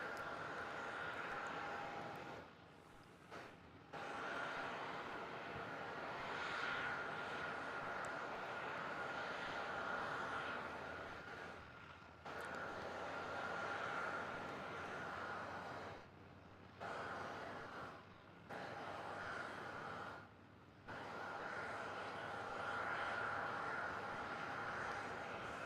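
A Boeing 777 arriving at Melbourne Airport from Perth gives a steady, distant jet roar that holds across the whole stretch. The roar is broken by a few brief dropouts, and faint voices can be heard beneath it.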